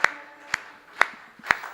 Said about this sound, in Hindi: मेरे साथ आप लोग ताल में थोड़ी देर तालियां बजा लोगे